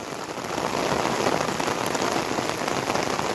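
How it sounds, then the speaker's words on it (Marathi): Heavy rain pours steadily and loudly on surfaces in a Konkan village near Ratnagiri, a dense, even hiss with no voices throughout. "पाऊस पण खूप पडतोय"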